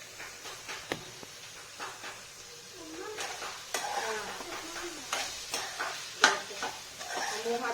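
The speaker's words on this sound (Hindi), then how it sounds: "बैगन आलू सेम की सब्जी में तड़का लगाया है।" Tempering sizzles in a home-cooked brinjal, potato and bean curry, a moderate crackle broken by scattered clinks and scrapes of stirring against the pot.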